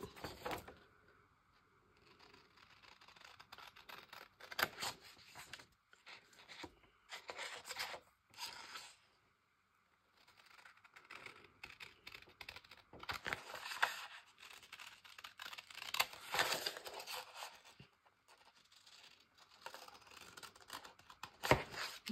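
Scissors cut through paper for an art collage, making quiet, close snips and rasping scrapes in irregular bursts separated by short pauses, with no talk.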